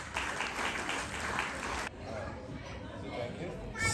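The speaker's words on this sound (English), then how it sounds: "Please give them a big round of applause." Crowd applause at a church feast celebration in Southampton, busy clapping with murmured chatter mixed in, dropping abruptly partway through to a quieter hubbub of voices before rising again at the end.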